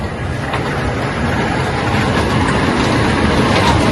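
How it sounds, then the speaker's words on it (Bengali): An amusement park ride train at a crowded park rumbles past at close range, a loud and continuous rolling roar that holds steady throughout, with no voices. "ট্রেন আবার চলে আসলো।"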